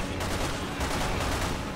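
Dense gunfire rattles through a short burst in Resident Evil 6 during a motorcycle sequence, loud and continuous with rapid overlapping shots and no voices.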